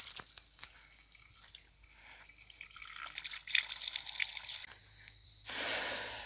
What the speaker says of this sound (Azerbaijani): Biraz suya ehtiyatımı götürüm, yuyunum, su içeyim